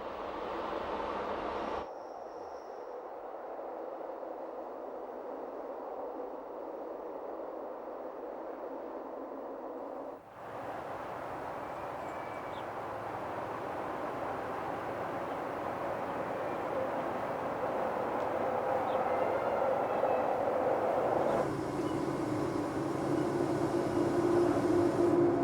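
A Rhaetian Railway electric train runs on the Vereina line in Switzerland, heard from inside a carriage as a steady rumbling roar that grows louder, with shifts in tone as it passes through different sections.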